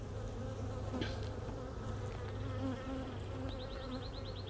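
Honey bees at an opened beehive from a split made weeks earlier, a dense steady buzzing hum up close, continuous and fairly quiet with no talking.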